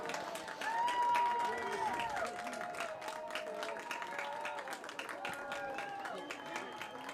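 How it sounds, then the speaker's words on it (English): Crowd cheering and clapping at a WIAA girls soccer sectional final between Oregon and Union Grove, steady and moderately distant, with a commentator talking over it throughout. "Getting a little cheering crowd going on in front of us."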